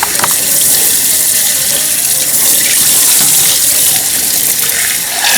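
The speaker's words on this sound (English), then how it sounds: "I'm going to wash it all in cold water several times until it runs clear" Cold tap water runs hard and steady into a sink while ground lamb is washed, a loud, close, continuous gush with no voices.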